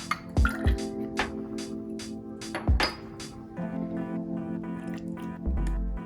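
Fresh pomegranate juice goes into a cocktail at a bar with a few sharp glassy clinks and knocks up front, followed by a steady close trickle and pour that runs to the end.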